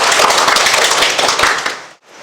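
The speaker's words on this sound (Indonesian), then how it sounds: "tepuk tangan dulu dong buat Imelda" A small group in a therapy session claps hands briskly for about two seconds, close and fairly loud, then stops abruptly into near silence.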